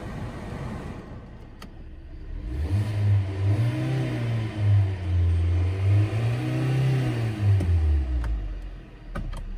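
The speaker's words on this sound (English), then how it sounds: "Revs up good, automatic transmission" A 2018 Kia Forte with automatic transmission revs its engine close up: a steady idle climbs into two long, smooth revs that rise and fall back, then settles to idle.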